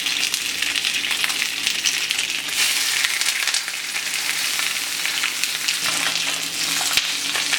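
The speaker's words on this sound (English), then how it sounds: "the best way to cook fresh salmon is to lay it with the fish side down on the hot pan" Fresh salmon sears in a hot pan with a constant hiss of frying fat, scattered crackles and pops, and faint stirring or scraping, heard up close.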